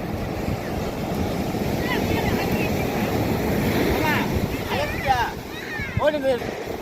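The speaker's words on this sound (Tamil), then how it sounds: "அலை வந்து ரொம்ப இருக்க வேகம் கூடுது" Ocean waves at Marina Beach, Chennai, roar in a dense, continuous wash with heavy wind buffeting the microphone, while voices chatter and call out close by toward the end.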